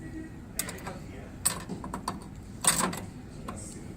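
Two screws being driven into a bracket while installing Colorwave glass, heard as soft irregular ratcheting clicks and scrapes with a couple of sharper knocks, close up and fairly quiet.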